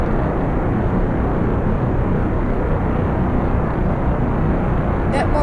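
Emperor rocket engine at full power on a test stand, a steady, loud, broadband roar that holds without a break, with a brief crackle near the end.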